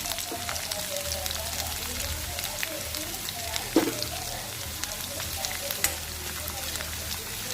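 A paste of fresh coconut, cumin and green chilies frying in oil over medium heat, with a continuous close crackling sizzle and occasional scraping stirs and a sharper clack of the spoon.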